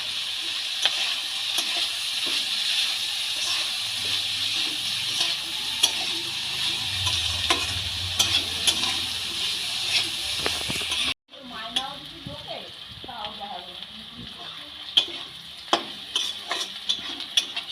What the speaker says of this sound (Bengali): সবজিগুলো ভাজার সময় খুব সামান্য লবণ দিয়ে দিলাম